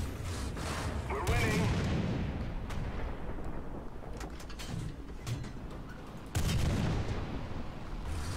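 Heavy booms of tank cannon fire from an M4 Sherman in War Thunder, with sharp blasts near the start, at about a second and a half and again near six seconds, over a rumbling battlefield backdrop with someone talking throughout.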